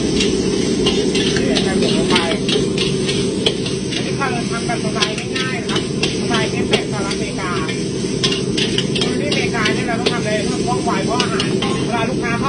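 Pork and garlic stir-frying in a pan for stir-fried cauliflower, a constant sizzle with repeated scraping and clanking of a spatula, under a voice.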